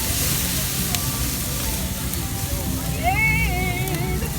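Flames shoot from a car's exhaust at a car meet, a loud continuous roaring hiss close by, while voices chatter and call out over it.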